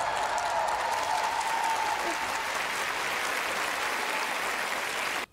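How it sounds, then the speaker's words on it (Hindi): A stadium crowd bursts into sustained, thunderous applause just after the national anthem ends, a dense wash of clapping holding steady for several seconds before cutting off abruptly. "राष्ट्रगान खत्म होते ही पूरा स्टेडियम तालियों की गड़गड़ाहट से गूंज उठा"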